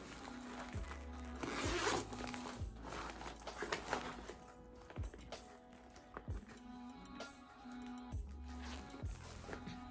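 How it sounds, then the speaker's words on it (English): A zipper on a Temu bag is worked repeatedly, its zipping strokes recurring every second or two over about ten seconds, close and fairly quiet, with occasional handling noise and faint talk. "Look at the zipper there."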